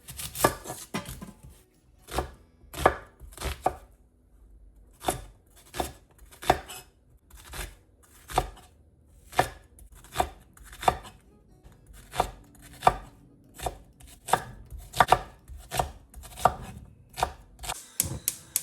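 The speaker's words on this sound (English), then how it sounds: "I'm literally just going to roughly chop this up." Onions roughly chopped with a knife on a cutting board for a black chickpea curry, a long series of crisp, close knife thuds in an uneven but steady rhythm with brief pauses, and no voices.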